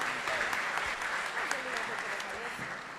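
Audience applause at a legal and institutional forum in Rio de Janeiro, a steady wash of many hands clapping throughout, fairly loud and close, with a few sharper individual claps standing out.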